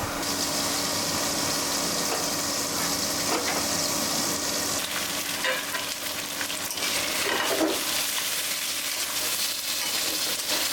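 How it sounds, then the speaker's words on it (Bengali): Meat sizzles steadily in a pot, a dense close hiss with faint crackles and occasional stirring, no voices. "কয়েক মিনিট এভাবে লোহিটা কষিয়ে নিব"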